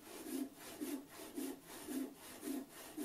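Hand saw resawing an oak board: rhythmic back-and-forth rasping strokes, roughly two per second, close and fairly quiet, steady throughout with no speech.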